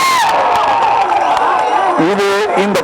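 A large crowd at a press event cheers and whoops loudly in a continuous roar, with shouts and clapping blended into a dense, close wash of noise.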